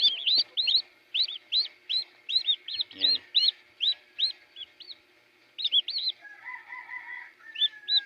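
Small turkey chicks chirp in quick runs of high, clear peeps, close and fairly soft, with short pauses between bursts and a brief low thump partway through.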